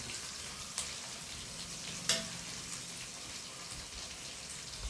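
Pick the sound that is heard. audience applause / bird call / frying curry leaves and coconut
frying curry leaves and coconut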